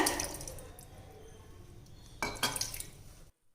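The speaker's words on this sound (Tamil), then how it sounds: "இப்போ கொஞ்சம் தண்ணி விட்டுக்கலாங்க" Water is poured into ground idli batter in a mixing vessel, giving a continuous splashing trickle with a second, louder pour near the end before it stops abruptly.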